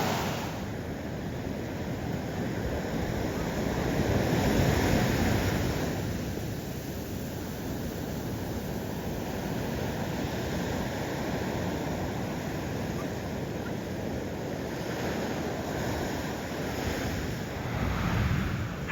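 Surf on a broad open beach rolls and washes in steadily, a continuous broadband roar with gentle swells in loudness, mixed with wind buffeting the microphone; no voices.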